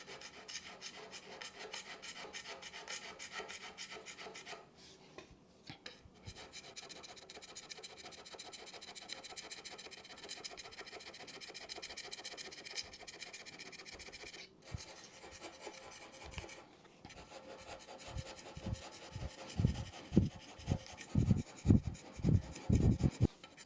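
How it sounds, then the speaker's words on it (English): Hand scraper scraping the metal surface of a milling machine during a rebuild, a steady close rasping that runs throughout, briefly pauses near five seconds, and ends in a series of louder, rhythmic strokes. "For this part, I find hand scraper works a lot better, much easier to control, and I can get much deeper in the grooves."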